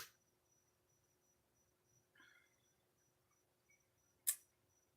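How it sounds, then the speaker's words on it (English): Crickets chirp faintly outdoors at night in a soft, regular pulsing trill, with a couple of brief clicks and a sharp tick standing out against the quiet. "Yeah, I hear crickets out there, Saturn."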